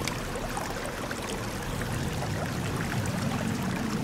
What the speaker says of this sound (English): as long as you don't mind the noise from the water.